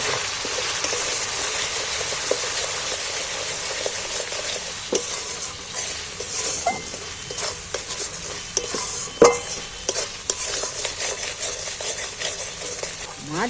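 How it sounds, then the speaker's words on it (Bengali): Fish curry with turmeric, Kashmiri chilli and green chillies sautéed in a pan, a steady sizzle broken by scattered spoon scrapes and metallic clinks against the pan, close by and without talk. "এইবার আমি একটু কষিয়ে নেব মাছ"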